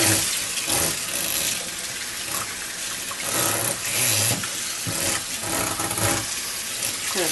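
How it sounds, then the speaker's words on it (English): Tap water runs steadily into a kitchen sink during a rinse, a continuous broadband splashing and gushing that stays close and fairly loud throughout with no talking. "I'm going to go ahead and rinse the sink."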